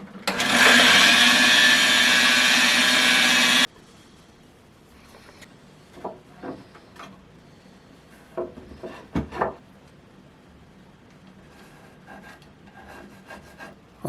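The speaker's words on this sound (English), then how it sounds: "I'd have these cut on the bandsaw before I even had that made" A bandsaw slices through wooden pieces for a sunset-themed headboard, a loud, steady rasping cut lasting a few seconds before stopping abruptly, followed by quieter scattered knocks and handling noises.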